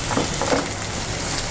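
Ginger garlic paste fries in a hot pan with oil, a close, steady sizzle and crackle with faint stirring scrapes, continuous and fairly loud, no talk.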